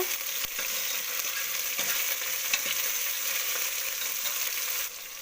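Tomato frying in oil in a pan while cooking a leafy-greens sambar, a steady broadband sizzle with faint stirring clicks, close and continuous with no talk.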